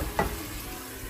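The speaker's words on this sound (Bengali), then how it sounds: "মশলাটাকে মিডিয়াম আঁচে একটু ভালো করে কষিয়ে নিই" Spice masala being stirred and sautéed in a pan over medium heat, a soft steady sizzle with one brief scrape of the spoon early on, close and fairly quiet, no voices.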